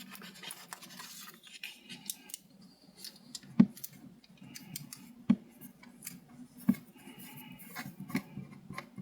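Scissors snipping paper while trimming pieces for a vertical planner, a few sharp distinct cuts amid soft rustling and scratching of paper, close and fairly quiet with no speech.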